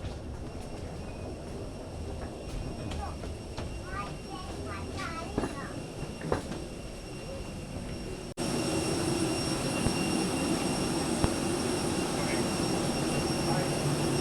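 A steady roar of airliner jet engines at an airport fills the air, broad and constant, with a sudden louder surge partway through as if stepping closer while boarding the plane.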